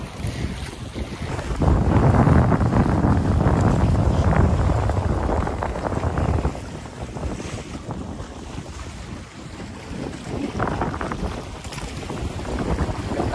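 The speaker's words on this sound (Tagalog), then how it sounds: "Malakas na yung amihan dito sa amin sa Boracay." Strong amihan monsoon wind sweeps across Boracay beach, a loud, steady roar buffeting the microphone with gusts that swell and ease, while waves wash in beneath it.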